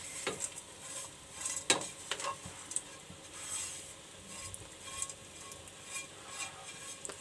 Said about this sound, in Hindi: हम इसके साथ इसको मिक्स करेंगे।